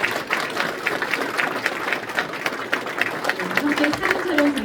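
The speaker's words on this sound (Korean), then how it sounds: "여러분 큰 박수 부탁드립니다." Sustained applause from an audience at a Korean provincial governor-elect's transition committee launch ceremony, a dense steady patter of many clapping hands filling the room, with a speaker's voice briefly heard over it.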